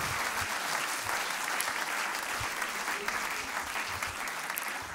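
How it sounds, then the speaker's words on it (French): Sustained audience applause fills the room after a live French music performance, a dense, steady patter of many hands clapping without pause. "Et on peut les applaudir encore, Louz Desbroussais,"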